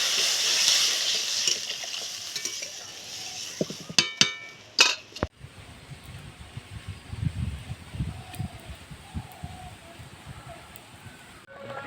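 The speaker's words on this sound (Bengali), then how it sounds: "ডালটা ভাজা হয়ে গেছে এবার এই ডালের মধ্যে আমি জল দিয়ে দিচ্ছি" Water is poured into fried lentils in a hot pan, setting off a sharp hiss and clinks of utensils partway through, followed by quieter bubbling and stirring noises, close by and without speech.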